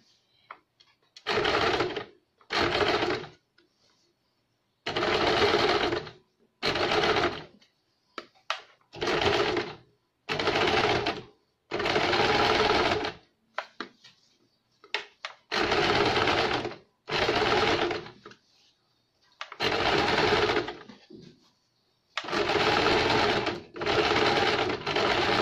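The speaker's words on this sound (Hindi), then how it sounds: "अब हम दूसरे साइड से भी उसको सिलाई देंगे।" A sewing machine stitches broad lace onto the back neck of a blouse. It runs in about a dozen loud, even bursts of rapid stitching, and short pauses separate them. No voices are heard.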